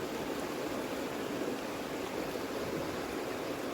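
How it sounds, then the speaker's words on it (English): A fast-flowing river rushes steadily with a broad, even wash of water noise, constant and fairly close, with no voices. "that river is flowing so fast"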